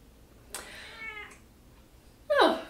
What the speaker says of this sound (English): A vote for theory C from the cat.